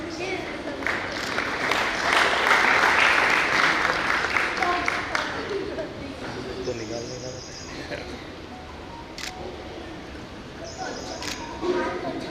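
Applause from a yoga class honouring Sarika ji, a broad wash of clapping that swells loud early, then thins and fades under ongoing talk.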